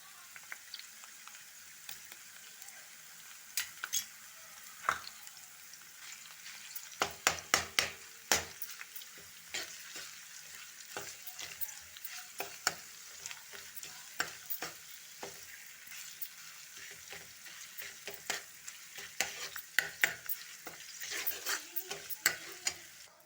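Ginger garlic paste frying in a pan for a mashed brinjal dish, a soft steady sizzle broken by repeated scrapes and taps of a spoon as it is stirred, fairly quiet and close, without voices.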